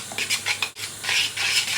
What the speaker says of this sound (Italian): aggiungete la nostra besciamella nei funghi, quindi avremo praticamente la besciamella a gusto di funghi. Quindi girate,